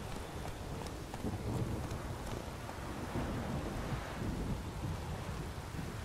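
A steady downpour hisses through a thunderstorm in The Witcher 3: Wild Hunt on PS4, with low rumbling thunder rolling beneath the continuous rain at moderate volume and no talking.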